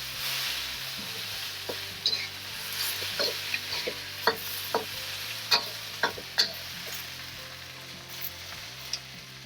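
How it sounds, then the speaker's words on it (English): Chilies and tomato stirred in a hot pan for Thai chicken cashew nut give a steady close sizzle, broken by a run of sharp utensil scrapes and taps against the pan. "Then I'm going to toss in my chilies and my tomato. Stir that around."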